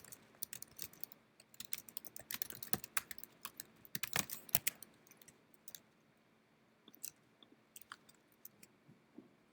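Fast typing on a computer keyboard, heard close but quiet, with irregular clusters of key clicks that thin out toward the end, and no speech.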